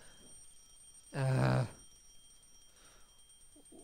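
A loud electronic alarm clock rings once in the video game Lucy -The Eternity She Wished For-, a short buzzing burst lasting about half a second, followed by quiet background and a brief murmured voice.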